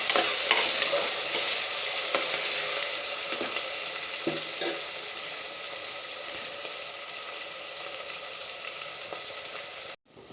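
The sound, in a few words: sautéing finely chopped tomato in a pan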